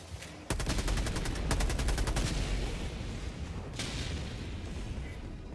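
Orbital barrage artillery shelling in Helldivers 2 starts with a sudden loud burst, then a dense run of rapid impacts and booms that carries on as a steady rumble, with another blast cluster near the end.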